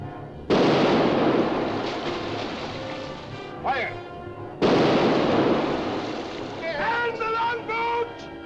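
Two heavy booming blasts of cannon fire in a 1945 pirate swashbuckler film, each a sudden loud burst that decays slowly into rumbling noise, with shouted voices and a music cue in between.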